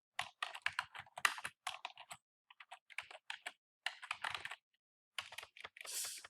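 Computer keyboard being typed on in quick bursts of clicky keystrokes separated by short pauses, close and fairly quiet, no talking.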